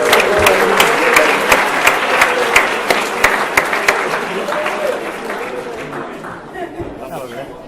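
An audience at a 2016 award ceremony applauds the Tower Hamlets Mayor, John Biggs, as he comes on stage, with steady, fairly close clapping that slowly thins toward the end, and some crowd voices mixed in.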